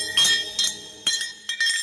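A metal bangle dropping and clinking several times in short, bright ringing bursts, each fading quickly before the next, loud and close with nothing else around it.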